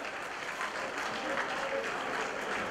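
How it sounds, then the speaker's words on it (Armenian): Sustained applause from a banquet audience honoring judicial system staff, steady dense clapping that fills the whole stretch without letting up. "Դատական համակարգի բոլոր աշխատակիցներին մի հատ ծափահարություններ"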